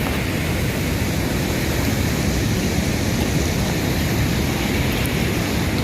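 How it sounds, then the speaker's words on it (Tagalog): A strong river current in Majayjay, Laguna roars as a loud, dense, unbroken rush of water, steady and close, with no voices over it. "Grabing lakas ang agos."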